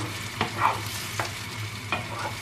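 Tomato sauce bubbles over sausages frying in a pan while a spoon stirs it, a continuous close sizzle with three distinct scraping strokes spaced across the moment.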